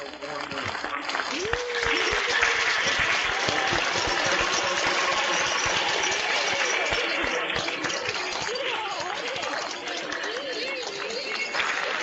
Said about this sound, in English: join me and give them a warm round of applause saying thank you to the Pro Football Hall